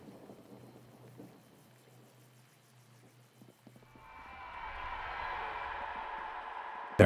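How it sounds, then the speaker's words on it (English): Rain in a video game starts about halfway through, first quiet ambience, then a soft steady hiss of rainfall that swells and holds, ending with a brief sharp burst. "Nice rain shower."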